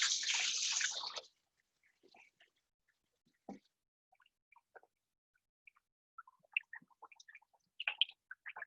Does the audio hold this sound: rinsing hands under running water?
yes